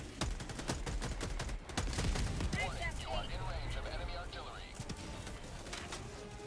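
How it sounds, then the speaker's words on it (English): Mortar and artillery fire in the game Helldivers 2, rapid bursts of sharp blasts and gunfire up front, then scattered booms and whistling sounds further off, with voices talking throughout. "There's like literal fucking mortars."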